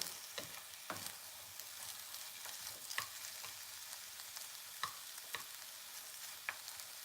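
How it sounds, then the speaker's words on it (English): Sweet potato is stir-frying in a pan, a faint, steady sizzle broken by scattered soft clicks and scrapes from stirring, with no talk. "I should have seen the time when I started to stir fry"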